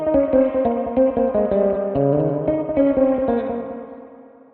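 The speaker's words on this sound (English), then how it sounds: "By the way, it can also have an echo." Guitar played through a Source Audio Artifakt lo-fi pedal with its echo engaged, a run of plucked notes whose repeats blur together before trailing off into a fading tail.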